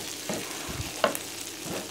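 Curry leaves spit and crackle in hot oil for a pepper chicken fry, with faint steady sizzling and a few sharp pops, quiet and close, with no talking.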